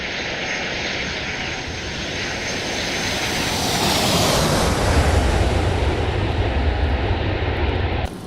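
Simulated MD82 jet engines at full throttle during a climb-out departure in X-Plane 12, a loud steady roar that swells and deepens midway, no talk.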